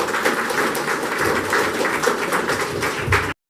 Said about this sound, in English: That applause does not convince me.